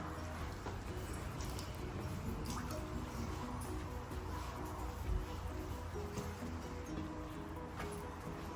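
Wet, sloshing rag work on a horse's legs while getting her ready for a winter fair, with steady dripping and trickling water and soft rubbing throughout, close and continuous.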